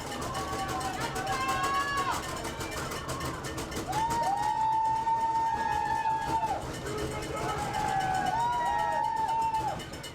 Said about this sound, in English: This crowd's loving it. Making a lot of noises on these benches.